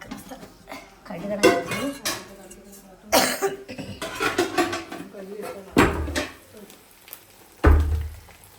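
In a home kitchen, pots and dishes clatter as they are set down and moved about, sharp metallic knocks and scrapes at irregular intervals, close by, with a cough and some talking between the clanks.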